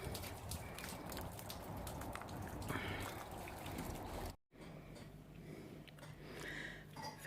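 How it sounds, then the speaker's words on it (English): Melting snow drips steadily off a roof, a continuous soft patter and trickle of water heard from nearby indoors. "It's all dripping off the roof."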